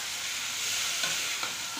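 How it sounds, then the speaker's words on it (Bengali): Potatoes fry in a pan with a close, steady hiss and sizzle, broken by a couple of soft stirring clicks. "এখানে আলুগুলো ফ্রাই হচ্ছে।"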